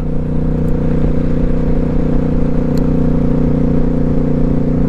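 Steady loud drone of a Yamaha Eluder motorcycle cruising on a highway through Marble Hill, Georgia, with an even engine hum and wind rush and no change in pace.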